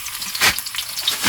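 Garlic fries to golden brown in hot oil, a bright, crackling close sizzle with quick spattering bursts over about a second and a half.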